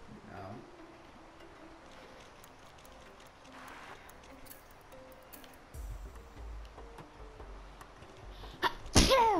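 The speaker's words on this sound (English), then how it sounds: "Sorry for that sneeze" A single loud, close human sneeze bursts out near the end, following a quiet stretch of room noise and faint ticking.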